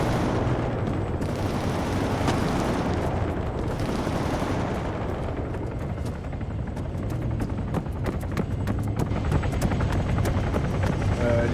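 Helicopters flying in the ArmA 3 military video game: a steady, loud rotor drone fills the whole stretch, with sharp bursts of gunfire crackling over it toward the end.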